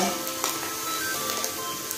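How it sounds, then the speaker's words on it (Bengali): Spices sizzle and fry steadily in a pan for a Bengali egg tarka dal as chopped tomato goes in, a continuous close crackling hiss with a few brief stirring bumps. "এবার আমি টমেটোটা দিয়ে দেব।"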